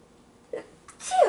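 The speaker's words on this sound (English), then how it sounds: "that sneeze was coming and I didn't know if it was going to come" A single quick sneeze up close, preceded by a sharp intake of breath, fairly quiet overall.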